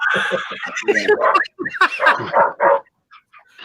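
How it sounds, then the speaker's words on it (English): Several dogs bark in a quick, dense cluster of yaps and barks, fairly close, before the sound trails off into quiet with a few faint bits. "My dogs are barking."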